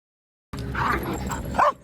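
Dogs playing at an outdoor dog park give a short burst of yips and play barks, close and fairly loud, starting after a half-second of silence.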